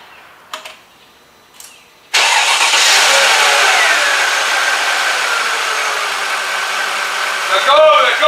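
A totaled Mercedes S500 sitting on jack stands cranks and fires up abruptly after a couple of faint clicks, then settles into a loud, steady, close-up engine roar with a slight rise near the end.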